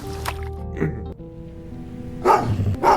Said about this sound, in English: That dog attacked you as soon as you entered your neighborhood.